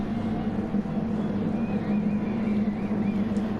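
A steady racing car engine drone in a video game, at the Lago Maggiore circuit, holds at a constant pitch, with faint whining tones rising and falling above it; no one speaks.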